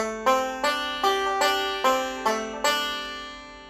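Bright banjo notes plucked in a forward-reverse roll, about seven crisp attacks each ringing out and decaying, close and clear with no voices.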